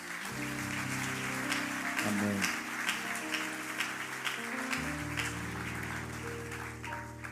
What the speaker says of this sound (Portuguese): Aplaudam forte a Jesus.